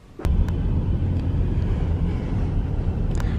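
Inside a moving taxi cab, a steady low engine and road rumble fills the cabin, constant and fairly loud after a brief quieter start, with a couple of faint clicks.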